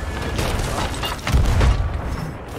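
Cannons boom at an enemy ship in the video game Sea of Thieves, deep muffled blasts over rushing water and ambient noise, with the strongest thump about midway through.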